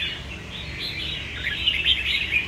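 A red-whiskered bulbul (chào mào), a caged songbird, sings close by in a lively, unbroken run of bright chirping phrases with no voices over it.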